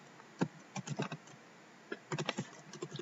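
Quick bursts of computer keyboard typing while writing Python plotting code, soft clustered keystrokes separated by a brief pause, with no talking.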